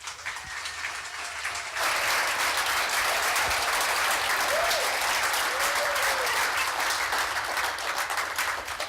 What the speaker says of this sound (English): Let's hear a great warm round of applause for our very own Hal Bergman.